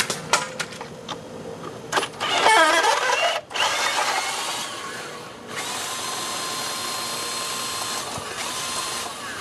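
A 9/16 socket on a ratchet or driver loosening the black band around the middle of a filter: a short whirring spin, metallic ratcheting and clinks, then a steady mechanical drone, close and fairly loud.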